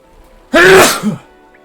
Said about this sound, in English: Man, I'm sneezing a lot.